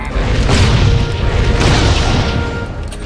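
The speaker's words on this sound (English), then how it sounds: "there's my blast cannon" A blast cannon fires in Torchlight 2, a loud, dense booming burst that rumbles and crashes continuously for about three seconds with no speech over it.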